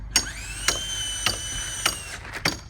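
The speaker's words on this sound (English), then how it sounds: "James is putting screws in here" Screws are driven into massive log walls of an Amish log home, heard as four or five short whirring bursts from a close power tool, each ending in a sharp stop. Quiet pauses fall between the bursts and no one speaks.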